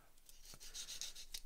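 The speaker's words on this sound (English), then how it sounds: "I also use a sanding sponge" A sanding sponge rubs a plastic part from a Takom 1/35 AH-64D Apache model kit, giving quiet, close, short scratchy strokes in a quick irregular rhythm.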